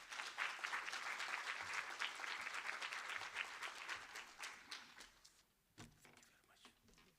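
Audience applause for the vice-chancellor at a university research indaba, a full round of crowd clapping that gradually thins to scattered claps and small bumps and shuffles toward the end.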